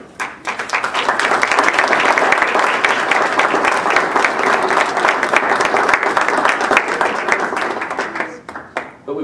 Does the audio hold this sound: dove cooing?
no